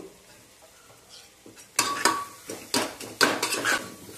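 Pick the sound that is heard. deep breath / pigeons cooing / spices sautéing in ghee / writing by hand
spices sautéing in ghee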